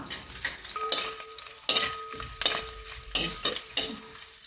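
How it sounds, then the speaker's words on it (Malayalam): Coconut pieces sizzle in hot oil in a pan while being stirred, with steady frying hiss broken by several rhythmic scraping strokes of the spoon, close and fairly loud. "എണ്ണ ചൂടായി വന്നതിലേക്ക് തേങ്ങാക്കൊത്ത് ഇട്ട് കൊടുത്ത് നല്ലോണം ഇതൊന്ന് മൂത്ത് വരുന്ന വരെ നമുക്കിതൊന്ന് നല്ലോണം ഇളക്കി കൊടുക്കാം"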